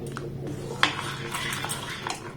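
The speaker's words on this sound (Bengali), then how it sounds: "এটাকে এইভাবে কিন্তু নাড়াচাড়া করতে হবে।" A spoon stirs a mixture of Gobindobhog rice and ripe mango in a pot over a low gas flame, with light metallic clinks and scrapes against a soft background hiss.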